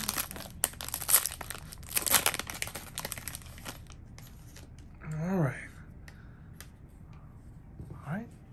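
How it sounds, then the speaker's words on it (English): A pack of football trading cards is torn open, with sharp crinkling and ripping bursts of wrapper plastic up close. Brief talking follows. "So let's go ahead and rip it open and see what we get."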